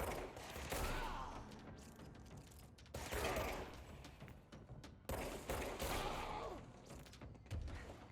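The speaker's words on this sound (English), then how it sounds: "Three shots from point blank to kill one guy." Repeated gunshot bursts in the game Control, a few heavy shots spaced a second or two apart amid rumbling combat noise and mechanical clatter, fairly quiet overall.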